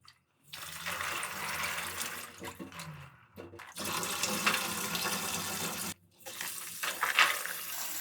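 Running water splashes and gurgles in bursts as rose hips are rinsed under a tap, with brief pauses where the flow stops.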